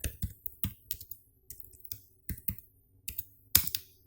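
Keys tapped on a computer keyboard while writing a code comment, quiet close clicks in irregular bursts of two or three strokes with short gaps, no voice.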